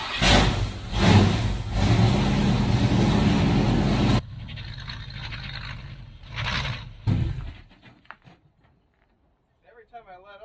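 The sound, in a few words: pickup truck driven out of garage and turned around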